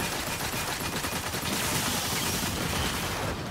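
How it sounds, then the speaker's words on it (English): Sustained, dense machine-gun fire from the Thunderlord heavy weapon in the Destiny 2 shooter game, a rapid continuous rattle of shots running loud and unbroken throughout. "Gosh, I love machine guns."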